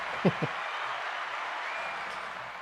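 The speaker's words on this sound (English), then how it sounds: "I'll give you a little bit of applause there" A short burst of light applause, a steady patter of clapping with a couple of soft vocal sounds at the start.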